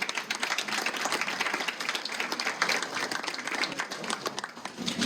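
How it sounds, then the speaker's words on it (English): Applause from the audience at a photo contest opening event, a crowd clapping in a lively, uneven patter with distinct individual claps, moderately loud and uninterrupted by talk. "Big round of applause."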